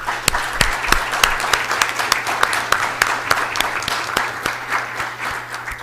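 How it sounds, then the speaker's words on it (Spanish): Audience applause closing a panel discussion on hurricane early warnings at a Costa Rica hurricane committee meeting, a steady wash of many hands with sharp individual claps standing out, moderately loud and sustained without talk. "yo quiero que nos demos todos un aplauso por esta fructífera discusión"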